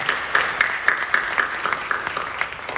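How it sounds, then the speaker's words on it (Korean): A church congregation claps together at a New Year special service, brisk scattered claps forming a short burst of applause, moderately close and fairly light. "박수해 주시죠."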